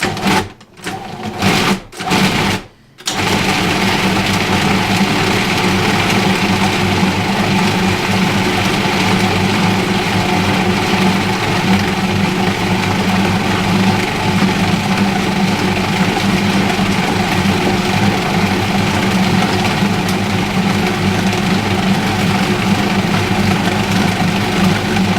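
A food processor grinds rice and chicken for homemade dog treats, a few short pulses at the start followed by a steady, loud, continuous motor whir that runs unbroken to the end.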